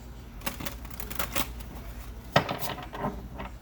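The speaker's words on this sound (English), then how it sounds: "One more shuffle. Two more shuffles." A deck of tarot cards is shuffled by hand in a quiet room, making repeated soft riffling and slapping bursts, close and fairly faint, with one sharper snap partway through.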